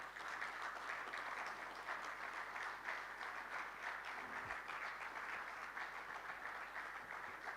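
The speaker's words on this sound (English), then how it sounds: "Please, let's keep clapping all the way from Addis Ababa." Sustained applause from a conference audience at an energy plenary session, a dense even wash of many hands clapping steadily throughout, no speech over it.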